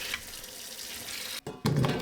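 Tap water runs over cut potatoes being washed, a steady hiss that briefly stops and then returns stronger with splashing.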